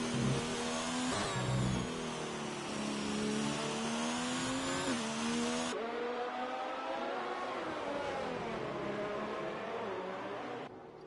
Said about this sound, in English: You hear him downshifting really hard and high into that rev range